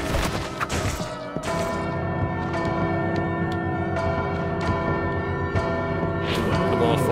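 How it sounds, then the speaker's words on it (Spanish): A bell rings inside the video game Bloodstained: Ritual of the Night, with loud clanging strikes that leave long, ringing resonant tails, some heavy thuds, and a voice talking over parts of it. "Esta campana."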